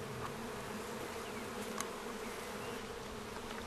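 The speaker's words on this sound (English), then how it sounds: "First, the bees are shaken onto a sheet of plastic." Honeybees being shaken onto a plastic sheet give off a continuous, even buzzing hum, a dense swarm drone heard close up, with a faint brief rustle partway through and no talking.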